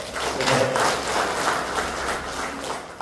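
An audience at a formal gathering breaks into applause, a dense patter of many hands clapping together, fairly loud and sustained for a few seconds.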